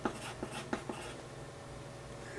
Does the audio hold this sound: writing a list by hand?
yes